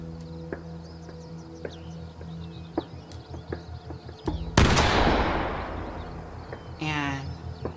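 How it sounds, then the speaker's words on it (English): Gunfire in the horror game The Quarry: scattered sharp shots pop over a steady hum, then a loud blast erupts and fades into a noisy wash, with voices talking throughout. "Let's have him, like, shoot at everything."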